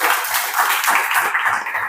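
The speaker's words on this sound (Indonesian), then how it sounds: "Bagus, kasih tepuk tangan untuk teman kalian." A classroom of students claps for a classmate, giving a brief burst of fast, uneven hand claps close by that lasts under two seconds.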